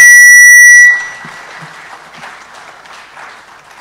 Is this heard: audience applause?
yes